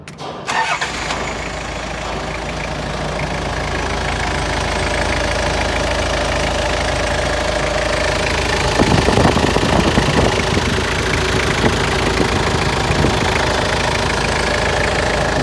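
A rebuilt Toyota Land Cruiser 2LT diesel engine cranks and starts, then settles into a steady, loud knocking idle close by, with a few louder rattling bursts partway through and no talking.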